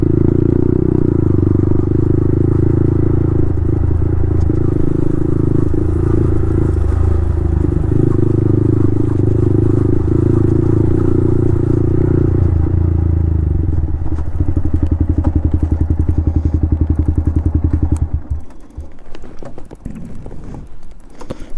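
A Yamaha MT-15 motorcycle fitted with a loud Akrapovic full-system exhaust idles with a deep, throbbing burble, held steady and close for about eighteen seconds before the sound drops away.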